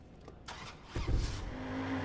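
A car pulling away in the Watch Dogs video game, a short engine surge that rises and holds a steady hum over about two seconds, moderately loud.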